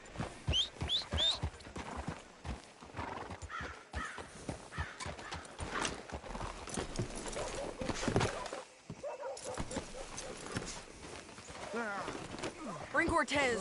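Horse hooves clip-clopping in a video game, a steady rhythm of hoofbeats under ongoing character dialogue, with a horse whinny and a dog barking briefly.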